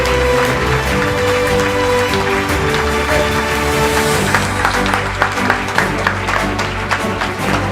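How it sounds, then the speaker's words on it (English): Audience at a research awards ceremony applauds a winner, clapping thickening into distinct claps as background music fades out midway. "A big round of applause for Dr. Vivekanand Kattimani"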